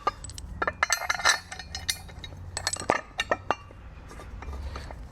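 Metal bolts clink and tap against each other and the housing as they are started by hand on an end plate being fitted to an electric motor from a Hyundai Kona, giving irregular close, bright clinks.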